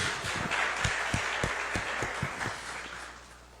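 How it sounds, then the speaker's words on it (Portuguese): A church congregation applauds during a live celebration service, a steady wash of clapping with a few sharp individual claps standing out, tapering off toward the end. "Dá um aplauso a Deus pela vida desse povo."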